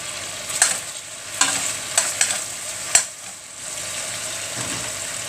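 Chopped onion sautéing in a pan for chicken tinola, a close frying hiss broken by several sharp scraping stirs of a utensil against the pan, with no voices.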